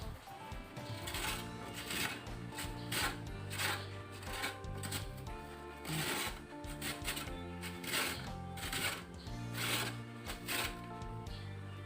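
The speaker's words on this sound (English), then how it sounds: "now I'm going to make the coarse grated coconut" Coconut grated coarsely on a hand grater, heard as quick repeated scraping strokes in an uneven rhythm, close and fairly quiet, with no speech.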